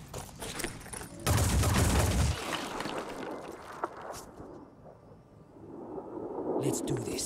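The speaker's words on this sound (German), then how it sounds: "Schüsse aus dem Nichts." Gunfire in the tactical video game Phoenix Point: a loud burst of shots erupts suddenly, followed by a sharp single report and quieter ambient game noise, with a voice speaking over parts of it.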